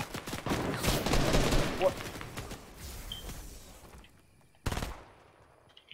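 Sniper and automatic gunfire in Fortnite crackles in a dense volley, fades out, then one sharp shot cracks near the end, while players talk over it.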